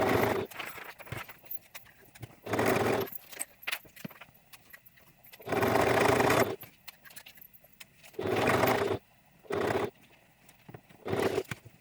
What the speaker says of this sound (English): I'm going to go ahead and stitch that all the way around there.